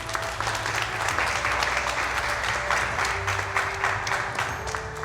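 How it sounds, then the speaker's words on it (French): Steady audience applause at a French arts-show taping, dense and sustained for the whole stretch, with faint background tones and murmurs underneath. "Vous pouvez les applaudir, bien sûr,"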